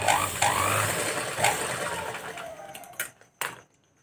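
A sewing machine runs steadily while stitching tucks into fabric for a puffed sleeve, with a continuous mechanical whir that stops and restarts in short bursts near the end.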